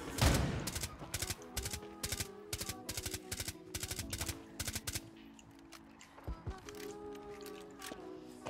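Automatic weapon fire in Rainbow Six Siege rattles out in a fast, evenly spaced string of loud shots for several seconds, then breaks into a few scattered shots amid faint background game sounds.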